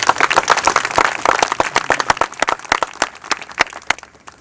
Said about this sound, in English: if y'all could give the 61 team another round of applause